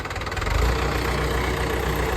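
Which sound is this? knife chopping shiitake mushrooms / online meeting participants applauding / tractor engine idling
tractor engine idling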